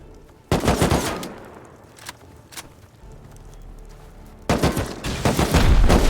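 Heavy gunfire from a raid defence in the survival game Rust, with bursts fired through base furnaces: a dense loud volley, a quieter stretch with scattered single shots, then another sustained loud burst.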